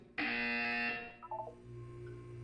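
A harsh electronic buzzer from the game Portal 2 blares once for nearly a second, followed by a few faint short tones against quiet background hum.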